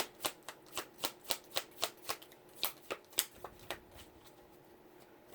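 Stiff tarot cards shuffled in a quiet room, a rapid series of about fifteen crisp riffling snaps with short gaps, close and clear, with no talk.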